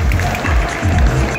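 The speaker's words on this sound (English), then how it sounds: "please give a big round of applause for our panel judges" A crowd at a Sugawan Plaza event applauds the panel judges, with dense, close clapping that swells and holds for a moment.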